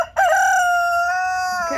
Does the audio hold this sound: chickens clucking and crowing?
yes